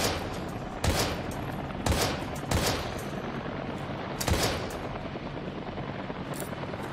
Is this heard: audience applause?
no